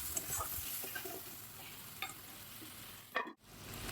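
Spice paste for koi fish curry frying in a pan with spiced water, a steady soft sizzle with occasional stirring scrapes and a brief clatter near the end.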